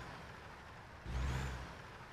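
Kenworth T800 truck engine in American Truck Simulator, a steady low idle rumble that swells into a deeper revving drone midway, then settles, with no talk.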